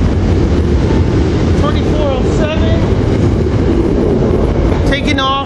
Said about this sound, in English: we got what's the Lansdale train with rail cars 284, 135, and 136